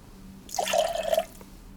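Freshly brewed coffee pours into a cocktail glass at a quiet bar, a short soft trickle of liquid lasting under a second, close and gentle, with no talk.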